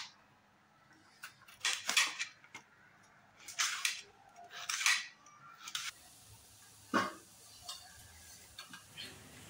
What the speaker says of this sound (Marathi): आता टमाटे चिरून घेते 2